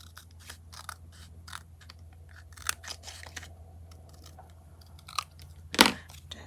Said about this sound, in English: I'm just going to cut some off